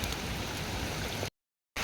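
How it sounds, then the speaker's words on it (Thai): Steady hiss of rain falling, dense and even, cutting out abruptly to silence before resuming. "ฝนตก"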